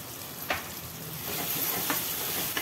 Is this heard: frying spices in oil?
yes